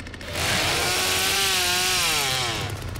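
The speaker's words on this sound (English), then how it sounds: "Revving my chainsaw, baby." Loud, sustained chainsaw revving in The Texas Chainsaw Massacre video game, the engine whine rising and holding steady across the whole stretch with no talk over it.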